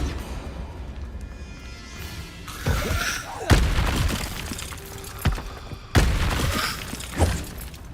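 Repeated Confringo fire spell blasts in the Hogwarts Legacy video game, several sharp booming explosions with crackling, shattering debris, spaced a second or two apart and loud up close.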